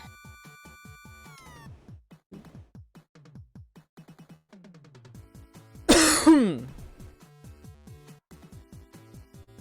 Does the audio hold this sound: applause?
no